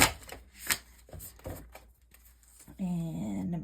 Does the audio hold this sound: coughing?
no